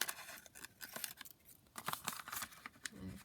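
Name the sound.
cutting material along the bottom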